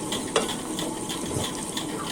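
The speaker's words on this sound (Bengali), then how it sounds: "এরপর ভালোভাবে নেড়ে চেড়ে নেব।" Onions, chillies and turmeric being stirred in a pan for a rice dish, with close scraping utensil strokes over a gentle frying sizzle and no talking.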